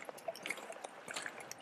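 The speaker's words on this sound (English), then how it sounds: "Dripping water" Water drips near a glacier in a high alpine setting, producing scattered faint plinks and small trickling patters over a quiet, airy background.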